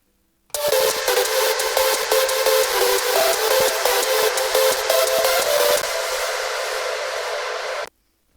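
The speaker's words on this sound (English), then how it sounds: "And this is with the OTT." A synth lead melody for a track, squashed with OTT multiband compression, plays loud and dense with bright, buzzy harmonics, stepping through sustained notes for about seven seconds before stopping, with no talking.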